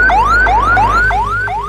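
An ambulance siren in a Bhojpuri-dubbed South Indian horror film wails loud and close in rapid, repeating rising sweeps, alone with no voices.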